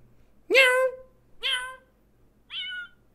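A person imitates a cat, giving three drawn-out meows close to the mic, the last one higher and shorter.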